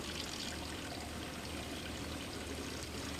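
Water pours steadily out of a treatment tank at a wastewater plant, a continuous even rushing and splashing stream heard alone with no break or talk.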